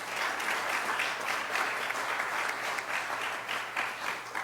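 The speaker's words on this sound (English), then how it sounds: "You guys are such a generous group with your applause." Sustained applause from an audience at a foundation event, dense and steady throughout, with no talking over it.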